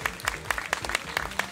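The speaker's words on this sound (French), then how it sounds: "On peut applaudir Mimi" A roomful of guests at a French gathering applauds Mimi for her homemade creation, with close, rhythmic claps ringing out over a brief burst of crowd applause.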